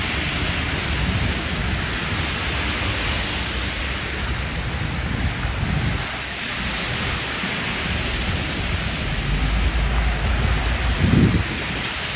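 Rain mixed with ice and slush pours down outdoors near puddles at a protest, a steady dense hiss that fills the whole stretch with no break.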